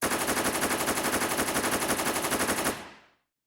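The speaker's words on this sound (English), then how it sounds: "That's how guns sound, right?" Rapid automatic gunfire rattles in a fast, even burst of shots, loud and close, then cuts off with a short decaying tail.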